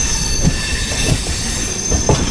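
Garib Rath Express 12201 running on rails near Mumbai while overtaking an EMU fast local, a steady loud rumble of wheels with faint periodic thumps and a high squealing tone throughout.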